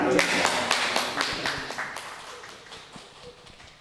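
Audience at an Indonesian Muhammadiyah gathering claps together after a speaker is thanked, a dense burst of hand claps that thins and fades over a few seconds.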